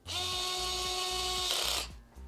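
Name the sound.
screwing bracket onto CPU cooler pump head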